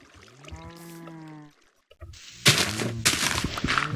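Water pours in the game Minecraft as a short splashing rush that follows a brief tonal sound and a pause, with a few sharp bursts inside the gush.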